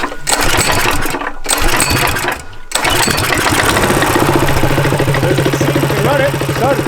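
A Coleman minibike's small engine with a torque converter sputters briefly, drops out for a moment, then catches and runs on with a steady, loud, close mechanical chatter.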